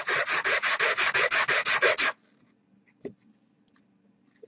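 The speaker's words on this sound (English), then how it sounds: "run my piece over the surface of the sanding block." An alcohol-ink craft piece is rubbed back and forth across a sanding block in about a dozen quick, even rasping strokes, close and loud, then it stops and a faint tap follows in near silence.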